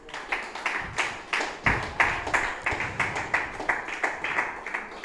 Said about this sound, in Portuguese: Bote as palmas bem alegre para Jesus.